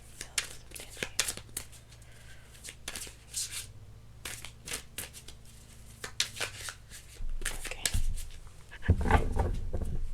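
Playing cards being shuffled, a series of crisp riffling bursts spread across the stretch, close and fairly quiet, with a low steady hum underneath and louder handling near the end.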